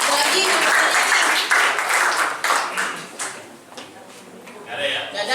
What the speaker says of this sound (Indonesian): Yuk, kasih tepuk tangan.